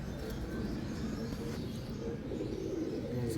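Pigeons, flying-breed kabootar, coo softly beneath steady low background rumble, several overlapping calls continuing throughout without clear speech.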